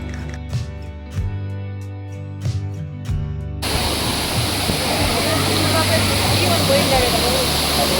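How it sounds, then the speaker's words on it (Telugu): After a few seconds of tonal music, the falling water of Ranajilleda waterfall at Araku takes over as a loud, continuous, close hiss and roar. "ఇక్కడ పడుతున్న ఈ వాటర్ ఫాల్స్ యొక్క వాటర్ స్పీడ్ కొంచెం తక్కువ ఉండేలా ఫీల్ అవుతుంది"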